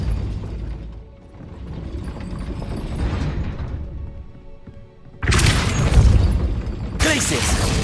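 Depulso force-push spells cast in Hogwarts Legacy combat, heard as mechanical clanks and ratcheting game effects under a voice, ending in two loud bursting impacts in quick succession.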